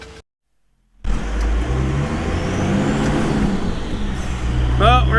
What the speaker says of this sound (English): we're in the truck. We're in the tow truck.